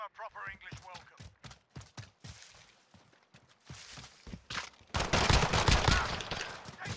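Pistol shots in the Gunfight 2v2 mode of Modern Warfare ring out as sharp, repeated cracks, scattered at first and then a denser rapid volley, with players' excited voices talking over them.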